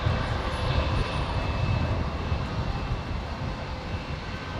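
A Jetstar airliner arriving at Brisbane Airport from Hobart onto runway 19 left, its jet engines producing a steady, moderately distant roar that holds throughout without any talking.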